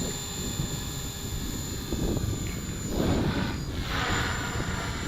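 A 450-size flybarless radio-controlled helicopter hovers outdoors in the wind, its steady rotor whine and buzz continuous throughout, with gusty wind rumble on the microphone swelling midway.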